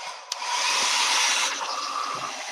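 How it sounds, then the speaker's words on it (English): A defective hair dryer runs steadily as a loud, close broadband whoosh of air with a constant motor hum, a brief click near the start and a slight drop in intensity partway through. "I think I just noticed that this is a defective hairdryer, but let's try this."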